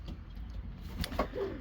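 Racing pigeons coo softly in a breeding loft, a few low rolling calls rising toward the end over a steady background hum.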